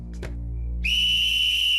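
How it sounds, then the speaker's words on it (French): Whistle blown in a cartoon, one loud, steady shrill tone that holds for about a second after a short vocal sound and a thump; no words are spoken. "Donne-moi ce sifflet, tu veux?"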